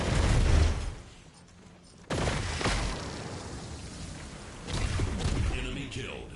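Rocket launcher blasts in the VR shooter Telefrag VR: heavy booming bursts, one at the start and more a couple of seconds apart, each trailing into rumbling gameplay noise.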